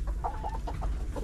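A rooster gives a few short, soft clucks close by over low background rumble, a brief burst of bird sounds with no talking.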